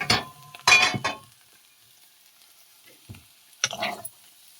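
Potato, bitter gourd and teasel gourd fry in a pan, heard as a few bursts of sizzling and stirring with clinks, separated by near-silent pauses.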